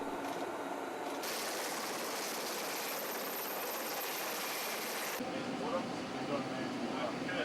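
An S-70B-2 Seahawk helicopter whirs steadily with a dense, rushing rotor noise, fairly faint and distant, its tone shifting slightly partway through.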